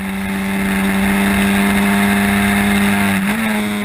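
A Historic Formula Ford race car at Oulton Park roars past at full throttle, a loud, sustained engine drone holding one pitch before shifting slightly near the end.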